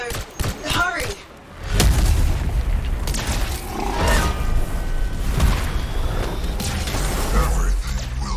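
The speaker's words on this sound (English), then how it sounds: "Destroy those things before they explode" Things exploding in the video game Anthem, with deep booming blasts and rumbling mechanical clatter that run almost continuously, loud and close, after a brief quieter opening.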